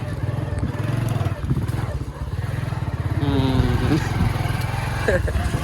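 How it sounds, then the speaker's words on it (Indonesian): A motorcycle engine chugs steadily as the bike climbs a slope on a village road in Pakistan. The throbbing stays close and constant, with people talking over it. "Motor nanjakan kayak gitu."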